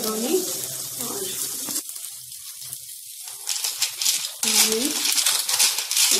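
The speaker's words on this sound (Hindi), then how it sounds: "अब इसमें हम डाल देंगे मैक्रोनी" Macaroni tipped into a pot of boiling water with a little oil added, giving brief watery splashing and pouring sounds close by, broken by short pauses, with someone talking over parts of it.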